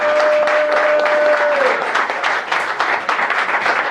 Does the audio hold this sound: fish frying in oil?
no